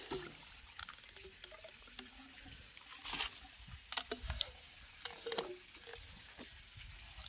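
Irrigation water flows quietly into a wheat field, a faint, continuous trickle and wash with a few soft splashes and knocks, heard alone at low level.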